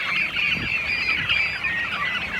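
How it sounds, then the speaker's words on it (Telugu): A turkey hen at a busy poultry market gives loud, harsh honking calls that run almost without pause over the two and a half seconds, close to the listener and with no talking. "టర్కీ కోడి."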